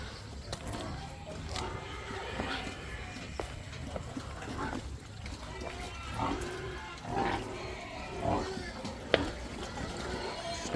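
Pigs on an organic farm lot near Cebu City grunt and snort at close range in irregular bursts under steady ambient farm noise, with people talking nearby.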